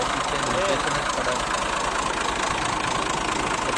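Diesel engine of a 2002 Massey Ferguson 240 tractor idling steadily close by, a continuous broadband rumble with a faint knock, holding at an even level throughout.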